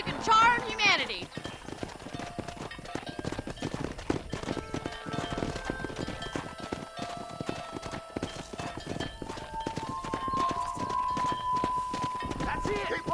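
Horse hooves clip-clop steadily at a riding pace in the Red Dead Redemption video game, with cattle-herding action going on, continuous and fairly close, while game voices talk over the hoofbeats throughout.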